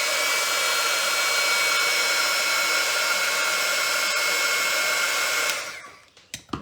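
Heat gun blowing a steady, loud rushing hiss to melt embossing powder for gold leaf flakes in card-making, holding continuously and then cutting off near the end, leaving a few faint clicks and handling noises.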